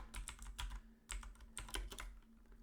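Quick, uneven bursts of keystrokes on a computer keyboard as a grep command is typed, close and clear with short pauses between clusters of key presses.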